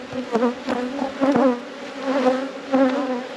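Honey bees swarm around stacked brood hive boxes in an Australian apiary during nectar season, a steady, close droning buzz that swells and fades in repeated pulses as insects pass near.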